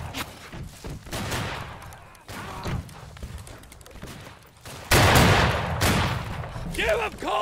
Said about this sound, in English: Keep up the fire.